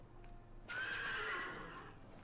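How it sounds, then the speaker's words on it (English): A horse in the video game Patrician IV whinnies once, loud and close, a shrill drawn-out neigh that rises quickly and trails off after about a second, set against quiet background hum. "Hear the horse."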